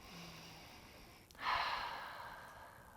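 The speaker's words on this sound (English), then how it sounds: "I'm going to take a couple breaths" A person doing self trigger-point release on a tender gluteus minimus spot takes slow breaths, a soft exhale then a louder, breathy inhale-exhale, close and quiet.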